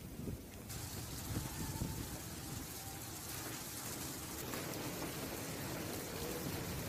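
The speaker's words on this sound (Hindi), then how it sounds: "जहां पर तेज बारिश के साथ ओलावृष्टि भी हुई है" Heavy rain with hail in Dausa, Rajasthan, a dense, steady hiss of falling water and impacts that stays even and continuous from start to finish, with no voices.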